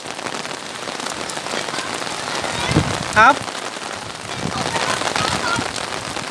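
Heavy rain pours down in a dense, steady hiss throughout, with a short spoken word and a brief sharp sound near the middle.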